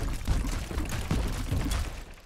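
Water pouring into a conduit in the video game First Dwarf, a loud continuous rushing gush with faint mechanical clatter, steady and close.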